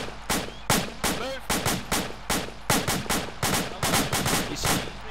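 Sustained gunfire during military suppress-and-advance training: sharp, loud shots crack in a rapid, irregular rhythm with overlapping bursts across the whole span.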